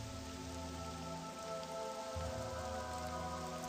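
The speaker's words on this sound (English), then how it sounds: "Oh, the rain sound is great." Steady rain hisses in the video game Morrowind, an even, unbroken patter over a low background hum, with no voices.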